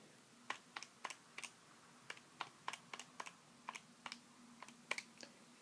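Typing on a computer keyboard while entering a quadratic formula calculation, heard as quiet, close, irregular key clicks in short bursts over a soft steady hum, with no talking.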